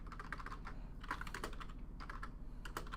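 Someone types quickly on a computer keyboard, a close, steady stream of clicking keystrokes with brief pauses and no talk.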